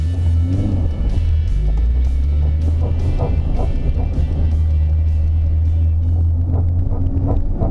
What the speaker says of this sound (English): That's just my tie rods scraping on the inside of my rim.